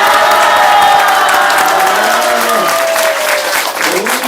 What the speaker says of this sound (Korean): 오늘 나온 사람들 박수 한번 쳐요.